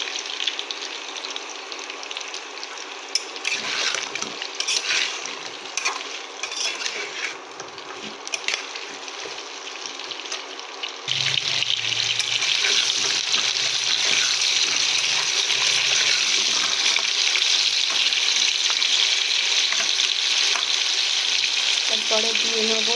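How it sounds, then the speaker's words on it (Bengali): Meat for a taro beef curry fries in a pan, a steady hissing sizzle that grows louder and fuller halfway through as stirring continues, with no talk over it. "এটাকে সুন্দরভাবে লাল করে আমি প্রথমে এটাকে ভেজে তুলে নেব"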